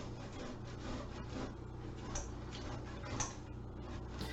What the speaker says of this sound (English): I'm going to grate some tomato into the bowl, and this will be my simple tomato sauce.